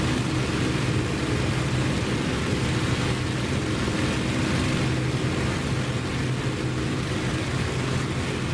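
A fighter plane's engine in the combat flight game Warbirds of Prey, throttled back to -2 pounds while escorting bombers, gives a steady, loud, unbroken drone with a coarse rumbling low end throughout.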